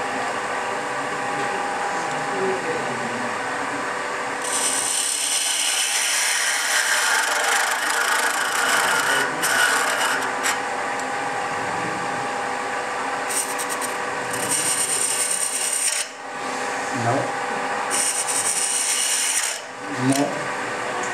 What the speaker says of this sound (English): I'm going to be using the skew, the little skew, lying down.